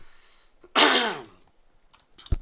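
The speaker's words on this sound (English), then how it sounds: "Hold on, got a cough." A single harsh cough and throat clearing from a person, one loud burst about a second long, close to the microphone, followed by small clicks.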